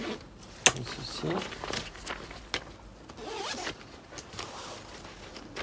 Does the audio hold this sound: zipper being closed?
yes